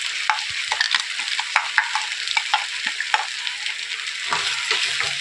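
Ground masala stirred into frying poori sagu in a pan, a spoon scraping in quick repeated strokes over a soft steady sizzle, close and moderately loud.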